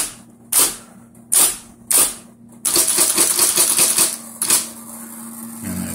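Keys clack on an IBM Selectric II electric typewriter: several spaced single strikes, then a rapid burst of typing, then one last strike, all over a constant low motor hum, close and clear with no talking.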